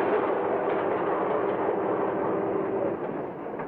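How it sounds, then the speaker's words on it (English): A Santa Fe Railway freight train runs at speed in a steady, loud, dense rumble and roar, unbroken throughout and easing slightly in level toward the end. "our train travels at a"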